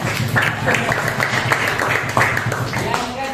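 Students clap together in a classroom during an Islamic studies lesson, rhythmic group hand claps heard alongside voices speaking and chanting over them.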